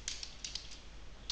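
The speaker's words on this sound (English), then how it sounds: "press F9 on your keyboard" A few quick computer keyboard key presses, crisp light clicks in an irregular cluster and then one more tap, close and alone in a quiet room.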